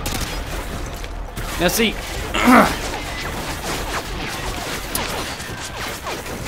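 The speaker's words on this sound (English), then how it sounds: "with all these bullets and stuff flying around in here" Gunfire and bullets fly in a Modern Warfare 2 mission, a steady roar of rapid shots and crashing impacts, with someone talking over it.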